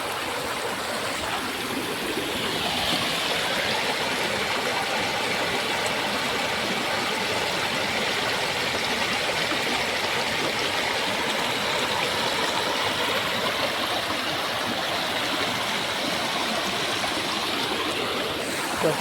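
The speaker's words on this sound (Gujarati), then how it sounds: "આપણે પાણી દેખાડું તમને." River water flowing, a continuous loud rushing and gurgling that fills the whole span evenly, close by with no voices heard.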